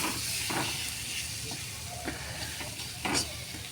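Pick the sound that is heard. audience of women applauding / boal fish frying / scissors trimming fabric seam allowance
boal fish frying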